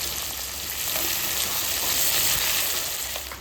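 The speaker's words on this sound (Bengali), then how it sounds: "লবণ দিয়ে দেবো তাড়াতাড়ি পেঁয়াজটা ভাজা হয়ে যাবে" Onions fry in hot oil in preparation for a mutton dish, giving a dense, constant, close-up sizzling hiss that swells slightly midway and continues unbroken throughout.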